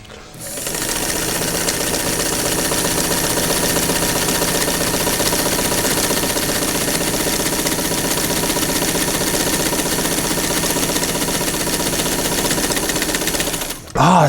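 A Sears Kenmore sewing machine runs loudly and steadily with a fast, even mechanical rattle, stopping abruptly at the end.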